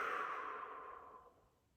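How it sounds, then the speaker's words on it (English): A single deep, slow exhale during a mindfulness breathing exercise, a soft breathy whoosh close to the microphone that fades gradually to quiet over almost two seconds, with no speech. "and breathing out."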